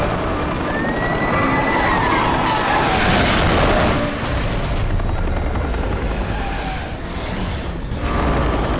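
Police helicopter chasing in the racing game Need For Speed Hot Pursuit Remastered, a loud continuous rotor whir over roaring car engines and tyre screeches, with a brief dip late on.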